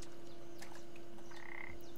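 In the video game Papo & Yo, a frog croaks with a steady throaty drone under soft ambient game sounds, brief and moderately loud.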